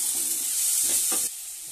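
Chopped tomatoes hiss and sizzle in hot oil in a pan as they are stirred, a steady close frying crackle broken by a few soft scraping strokes.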